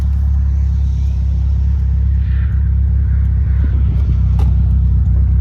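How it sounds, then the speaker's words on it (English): A Mitsubishi Eclipse GSX with a 6-bolt engine being driven, its engine holding a loud, steady low drone throughout, with one brief sharp burst near the end that fits the blow-off valve venting. "The blow valve is really loud."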